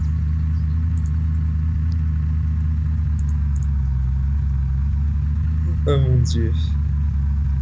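An ambulance engine in the video game Unturned runs with a steady, loud low rumble throughout, while a voice briefly speaks near the end.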